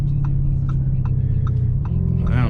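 A 2019 Lamborghini Urus SUV with its exhaust wide open gives a steady low droning rumble while driving in traffic, alongside faint cabin noises and a brief rising whine near the end.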